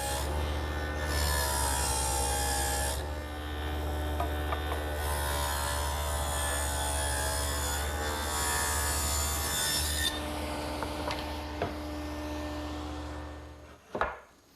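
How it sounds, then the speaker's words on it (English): A power tool cuts a groove along the bottom of wooden rafters for a greenhouse frame, giving a sustained buzzing whine that comes in long passes with short pauses, ending with a brief knock. "The next step is to make a groove along the bottom of all the rafters."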